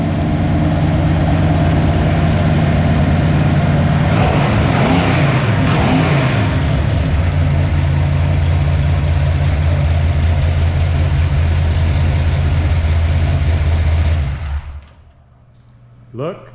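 A $200 Chevy 454 big block in an El Camino with headers and Edelbrock parts, revving loudly in a few rising, falling sweeps, then settling into a heavy, rumbling idle close by before shutting off, with voices talking over it.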